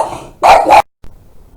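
Dogs barking: two quick, loud, close barks in a short burst, with a brief silence after and a low background hum.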